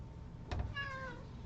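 A house cat gives a single clear meow, soft and close, after a brief knock, against a quiet indoor background.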